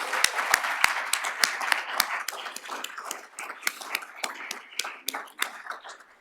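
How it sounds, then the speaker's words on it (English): Scattered applause from a lecture audience, starting with a few sharp, separate claps near the front, then thickening into a moderate, uneven patter that eases off toward the end. "Let's give her a big round of applause."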